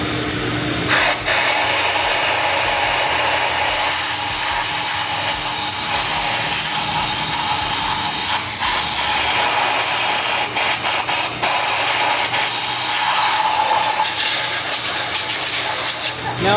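Compressed air hisses steadily while blowing corrosion debris out of a spark plug well on an old, field-rotted Mustang GT, a loud continuous rush lasting throughout with slight fluctuations.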